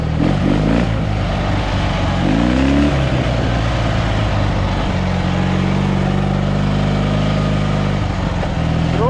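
A Dnepr MT-11 motorcycle engine, slightly cold, revs and accelerates loudly up close, pitch rising and falling in repeated sweeps over a continuous throaty drone with no talking.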